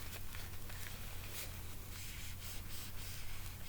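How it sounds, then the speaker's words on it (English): A fingertip rubs across a Fenty Killawatt foil highlighter pan to wear off the top layer, producing a soft, continuous, faint scratchy friction with small textured flutters. "I'm just gonna go and rub it around, get that layer off"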